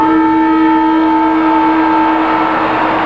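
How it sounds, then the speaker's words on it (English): Half-time siren at a 2000 AFL Geelong vs Richmond match sounds as a loud, steady, sustained tone rich in harmonics, holding for the full three seconds over crowd noise, with no talk. "Siren will sound as soon as the umpire puts the ball down into the turf."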